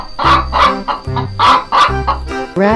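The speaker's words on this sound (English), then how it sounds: "Chicken." A cartoon chicken clucks in a quick run of loud, close bursts, about six or seven cackling notes in a steady rhythm. It ends on a longer call, with no talk over it.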